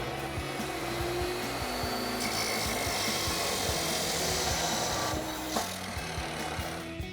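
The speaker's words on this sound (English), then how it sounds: "Now we're gonna go to our saw and get that cut off." A power saw grinds steadily through a metal exhaust pipe on a 2024 Toyota Tacoma, a harsh buzzing whine with rhythmic strokes, loud and close throughout.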